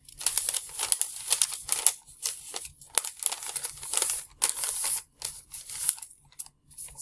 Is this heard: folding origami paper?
yes